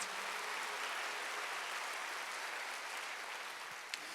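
A church congregation claps during a Sunday worship sermon, a steady, even wash of many hands sounding distant and faint in a large room.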